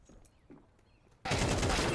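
AK rifle fire in a Counter-Strike pro match, a sudden loud burst of rapid automatic shots cutting in after faint footsteps and quiet ambience, continuing densely to the end.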